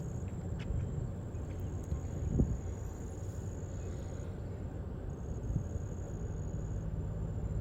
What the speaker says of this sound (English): So I'm sure you can hear the traffic going by.